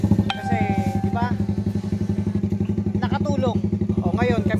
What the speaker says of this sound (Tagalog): salamat sa motor ni Kuya Regan